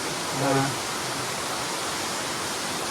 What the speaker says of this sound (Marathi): काय धबधबा आहे रे